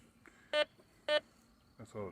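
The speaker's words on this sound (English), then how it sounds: "See, all it does is beep." A Bounty Hunter metal detector gives two short, identical electronic beeps about half a second apart, followed by a faint chirp and a fainter tone at the end, over low background hiss.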